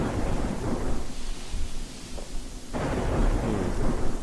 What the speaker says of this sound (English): Yeah, but we can't stay out here in this rain